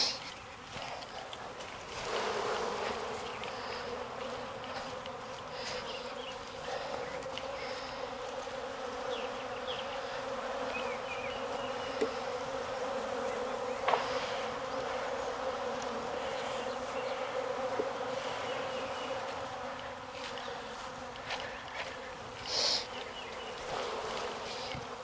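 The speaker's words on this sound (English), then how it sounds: "I just got so many bees in here." Honey bees on a beehive frame drone in a dense, continuous buzz that stays close and fairly loud throughout, with a few faint handling knocks and no talking.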